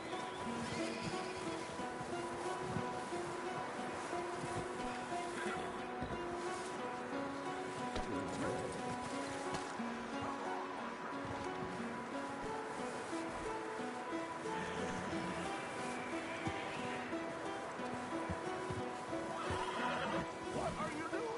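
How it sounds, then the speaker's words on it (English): Horses whinny and neigh repeatedly over a steady, busy Red Dead Redemption 2 game soundscape with music, with faint hoof clops and some talking mixed in. "Micah, go bring the horses closer to the house"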